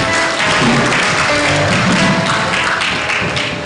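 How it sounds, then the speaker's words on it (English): Applause for the head of department at a university medical sciences induction ceremony, a steady, dense round of clapping from an audience lasting throughout, loud and close with a faint tonal hum beneath. "A better round of applause for the HOD"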